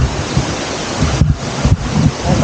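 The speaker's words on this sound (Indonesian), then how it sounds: "Air terjun ini." A waterfall beside a clear-water river on a mountain trail at Ungaran, a loud continuous rush of falling water with a windy, buffeting texture, steady throughout with brief dips.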